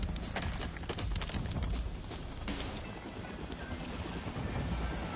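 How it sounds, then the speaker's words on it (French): A helicopter approaches in the Call of Duty Black Ops 6 campaign, a loud steady rotor roar mixed with battle noise and rumble. "Hélico en approche."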